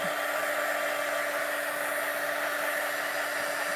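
A heat tool blows hot air steadily for heat setting on a floral card project, a constant close whirring hiss with a faint hum that holds evenly throughout without pause.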